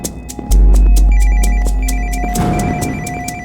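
A telephone ringtone plays loud and close, a steady repeating electronic melody of chiming pulses over a constant low drone that runs for several seconds with no talk.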